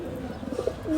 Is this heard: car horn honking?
no